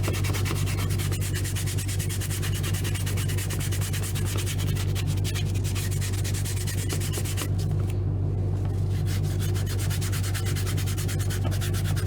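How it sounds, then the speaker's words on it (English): Sandpaper rubbing over foam on a Baby Yoda puppet build, a steady, loud, continuous scratchy sanding texture close up with no talking. "watching me sand is remarkably boring"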